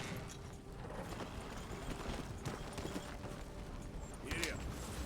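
Hooves of a horse-drawn wagon clip-clop at a steady rhythm in the Red Dead Redemption 2 video game, heard over constant game ambience and mixed with talking, with a horse whinny near the end.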